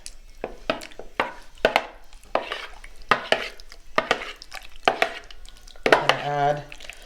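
Eggs and ricotta being mixed in a bowl for chicken lasagna, a utensil scraping and tapping against the bowl in a steady rhythm of short strokes, close and fairly quiet, with no talk over it.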